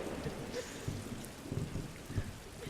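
A thunderstorm sound effect with steady rain hiss and low rolling thunder rumbles that swell and fade several times, fairly loud and full, with no talking over it.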